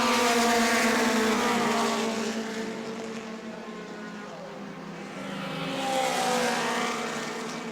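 Race cars roaring past on the track at New Smyrna, their engines swelling as they pass close by, fading away, then surging again as more cars approach, with a commentator talking over the noise.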